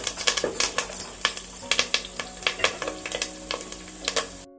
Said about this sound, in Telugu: ఇప్పుడు గోల్డెన్ బ్రౌన్గా వేయాలండి ఉల్లిపాయలు